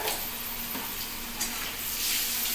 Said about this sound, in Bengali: এবার গ্যাসটা কমিয়ে ভাজতে হবে পেঁয়াজটা দেখো সুন্দর লাল লাল হয়ে গেছে